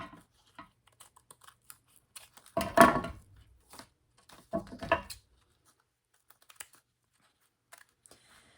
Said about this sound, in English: Let me cut this end off.